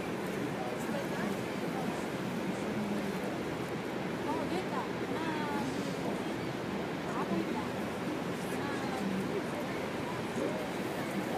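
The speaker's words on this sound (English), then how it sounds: "As we approach, you can actually hear the thunder of the water." The roar of Niagara Falls heard from a Hornblower cruise boat, a broad continuous rushing wash of water mixed with wind, steady and loud, with people talking over it.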